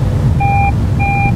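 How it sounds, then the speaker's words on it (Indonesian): Seat belt warning chime in a Toyota Raize GR Sport: two clear electronic tones, each held about a third of a second, sounding over steady low cabin and road rumble. "dia auto lock dan ada peringatan fasten seat belt"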